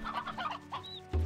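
Chickens cluck in the video game Slime Rancher 2, a short burst of several close clucks followed by a louder low thump.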